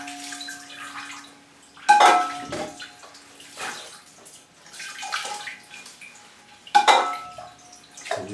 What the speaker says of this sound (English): So we do pour a lot of water into this